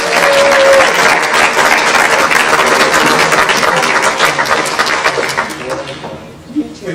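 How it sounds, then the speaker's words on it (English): Audience at a Service Merchandise reunion breaks into loud, sustained applause lasting several seconds, gradually thinning and fading near the end, with some crowd murmur and voices underneath. "you all deserve a round of applause"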